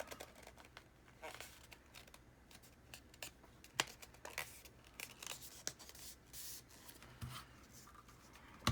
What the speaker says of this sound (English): let me just cut a strip of this. And I'm going to fold it in half.